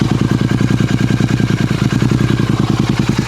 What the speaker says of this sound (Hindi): अभी आइडल पे कुछ इस तरह की इसकी साउंड आ रही है